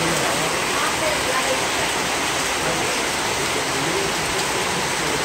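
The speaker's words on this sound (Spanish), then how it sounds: "pero está lloviendo fuertísimo, todo lo que da" Heavy rain pours down on a ranch in Mexico, a dense, loud, unbroken hiss and roar that fills the whole moment with no break.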